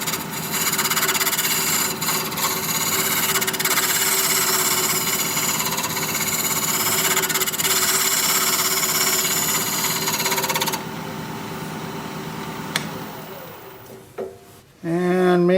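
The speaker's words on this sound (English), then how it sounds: "Now I just want to round over this little corner here with the round cutter." A wood lathe spins a wooden cup while a round cutter rounds over a small corner, giving a steady loud broadband whirring and scraping that runs continuously, then thins and sputters near the end.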